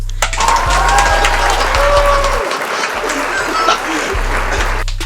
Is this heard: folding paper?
no